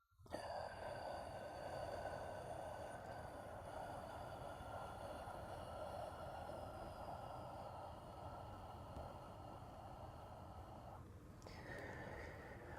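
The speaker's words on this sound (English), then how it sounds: "Exhale through my mouth for 8." A long, slow exhale through the mouth during yoga breathing, soft and close, stretches on steadily for several seconds against a quiet background hum.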